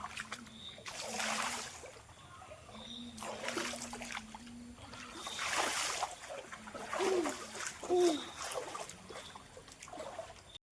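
People splash and play in water at the Arakkuparambu Ardhanareeswari temple, several separate bursts of splashing rise and fall at moderate distance, with faint whistling tones in between.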